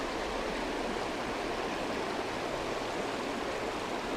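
River rapids rush steadily where trout are fished, a continuous loud roar of flowing water with no talk.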